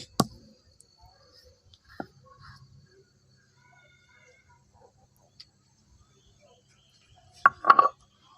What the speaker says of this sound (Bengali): এখন আমি এখানে একটা রসুন এভাবে থেতো করে নিচ্ছি